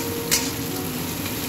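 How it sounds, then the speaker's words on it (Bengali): Raw onions frying in oil in a pan, browning for fish curry, a dense steady close sizzle with one brief scrape of stirring. "দিয়ে পেঁয়াজগুলোকে আমি ব্রাউন ব্রাউন করে ভেজে নেব"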